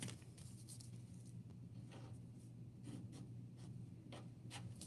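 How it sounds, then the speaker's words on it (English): Pen scratching and scribbling across sheets of fancy paper as a simple picture is drawn, a steady close-up rubbing with short strokes and pauses, quiet and alone over low room hum. "On my fancy paper, I'm going to draw Jonah."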